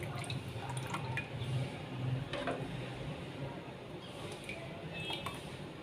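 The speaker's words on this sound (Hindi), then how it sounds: "कस्टर्ड डालेंगे पहले" Custard being poured into a serving dish makes faint, soft liquid drips with light clinks of the dish, quiet and close, with no one speaking.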